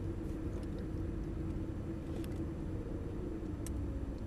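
A Mercedes-Benz SLS AMG idles and rolls out onto a Las Vegas race track, its deep engine rumble steady and close throughout with no talking.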